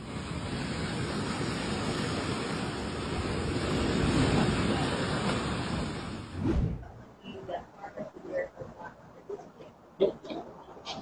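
Ocean waves break on a beach in a steady, loud broadband roar for about six seconds, then cut off abruptly to quieter, scattered sounds.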